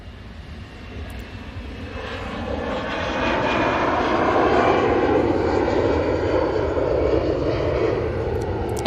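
An EasyJet airliner passes overhead with a broad jet roar that swells gradually, peaks around midway, then holds steady, heard from a distance outdoors.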